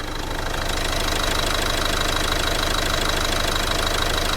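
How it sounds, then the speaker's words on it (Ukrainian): An Opel Movano van engine idles close by under the hood, a low even rumble with a faint rhythmic knock, running alone without any voices. "послухаємо в мікрофон, як працює двигун"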